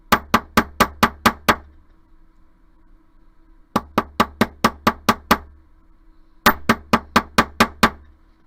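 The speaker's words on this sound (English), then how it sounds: "You only need to hammer one side because the block basically hammers the other side for you" Wire filigree earring pieces hammered flat on a metal block: three loud bursts of about seven quick, ringing metallic strikes each, separated by short pauses, with no talk.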